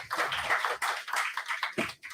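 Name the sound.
applause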